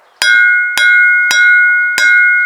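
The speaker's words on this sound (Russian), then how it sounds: "беру клещами и стучу. Звук какой, да?" A small bronze bell, home-cast, is struck four times with tongs at a steady pace, each strike ringing with a clear sustained tone that carries into the next; close and loud.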